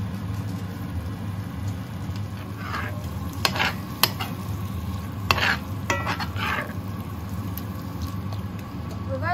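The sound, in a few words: stirring and frying seasoned meat in pan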